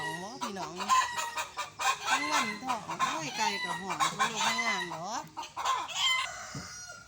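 Chickens cluck and squawk busily throughout, with a rooster crowing over the dense, close flock noise.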